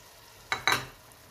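Tomato paste hits a pan of cooked onion, garlic and ginger with two quick bursts of sizzling and stirring, close and brief, then a quiet tail.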